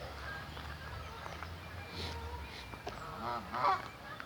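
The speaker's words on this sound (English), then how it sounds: "Hello, Goosey" A goose in a park gives a few nasal honks, moderately close, over low outdoor background rumble, the loudest honk coming near the end.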